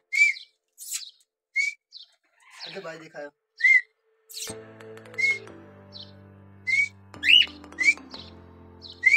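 Pet parrot whistling in short, sharp repeated bursts close by, among chirps and squawks, with an electronic tone or music joining partway through and a brief voice.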